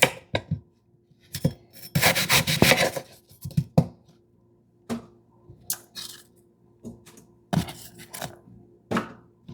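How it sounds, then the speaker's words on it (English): A knife chops a green apple on a cutting board: irregular crunchy cuts and scraping rasps, with a denser burst of sawing strokes near the start, then scattered single chops close by and no speech. "Next, we are going to just chop the apple, green apple."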